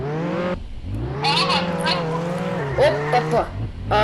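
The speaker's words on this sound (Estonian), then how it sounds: "See on jõle kiire auto." Fast car driving in the Roblox Jailbreak video game, a loud steady engine whine rising and falling in pitch throughout, with someone talking over it in places.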